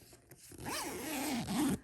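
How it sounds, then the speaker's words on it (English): A zipper on a freshly sewn fabric zipper pouch is pulled along its length in one continuous close, rasping run lasting over a second, with no voices. "Always test your zipper, making sure it's gonna function, okay?"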